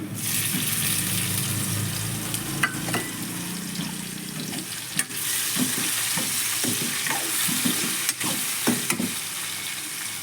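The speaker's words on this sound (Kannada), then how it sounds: "ಈಗ ಈರುಳ್ಳಿ ಹಾಕ್ಕೊತಾ ಇದ್ದೀನಿ" Onions sizzling and frying in a pan in a home kitchen, a steady crackling hiss with occasional stirring scrapes and a brief run of tap water in the background.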